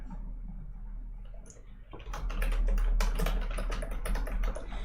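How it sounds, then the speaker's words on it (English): Typing on a computer keyboard during a pre-market stock prep show, a steady run of quick clicking keystrokes that starts about two seconds in and continues to the end, close and clear with no talk over it. "Let me type that out."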